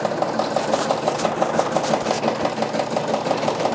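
A Brother embroidery machine, PRS 100 or SE 625, stitches with a fast, even mechanical chatter, a steady rapid pulse over a motor hum, close and continuous.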